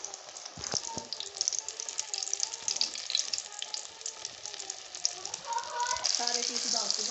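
Coated fish pakora pieces frying in hot oil, a steady broad sizzle that continues throughout with small bubbling crackles, close and fairly loud, brief voice murmurs underneath.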